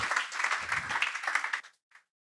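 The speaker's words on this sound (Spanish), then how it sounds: "Un aplauso para estos 6 baluartes" A church audience applauds together, a dense burst of clapping lasting under two seconds that stops abruptly, followed by one last lone clap.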